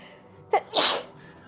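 One sharp human sneeze, a quick intake followed by a loud, close burst that fades after about half a second, set against a quiet room.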